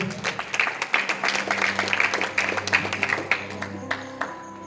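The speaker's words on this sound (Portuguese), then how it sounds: "Aplauda o Senhor." A church congregation applauds the Lord, a fairly close scattering of hand claps with individual claps distinct, a loose beat tapering off as a low organ or keyboard tone holds underneath.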